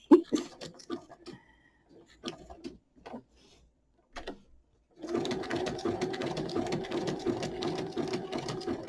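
Sewing machine stitching along the edge of a paper tag for a junk journal, a steady rapid mechanical chatter starting after some handling clicks and running continuously to the end.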